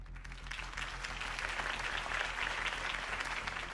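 Crowd applause after a campaign speech for Harvey Dent in a Batman Telltale video game, a fairly quiet but continuous wash of many hands clapping, steady throughout with a low hum underneath.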